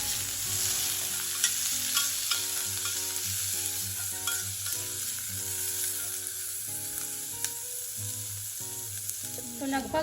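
Onion, capsicum and other vegetables sizzle and fry in a pan while being stirred, with a continuous crackling hiss and repeated scraping and clinking of the spoon against the pan.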